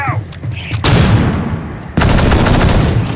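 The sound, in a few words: flashbang grenade and gunfire in a video game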